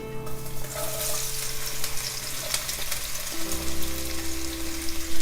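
Chopped garlic from a whole head sizzles steadily in hot oil for chicken al ajillo, a dense continuous crackle with low hum underneath and no talking.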